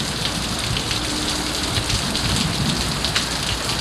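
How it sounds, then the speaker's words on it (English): Heavy rain pours down during a severe thunderstorm, a dense steady hiss of drops on surfaces with scattered sharper splatters, continuous and fairly close, with no one speaking. "Okay, big rain."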